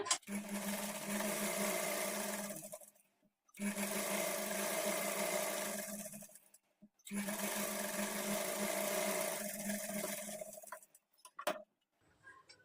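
A sewing machine double-stitches a trouser seam, running in three sustained bursts of steady whirring and clatter separated by short pauses.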